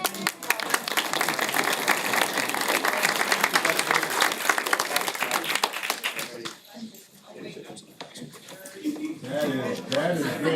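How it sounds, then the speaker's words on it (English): Audience applause at a board meeting, a dense, loud burst of clapping for about six seconds that thins out, with a person talking over the tail end. "Give them another round of applause."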